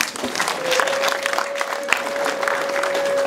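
Wedding guests applaud, a dense steady clapping close by that holds throughout, with voices mixed in and a faint sustained tone running beneath.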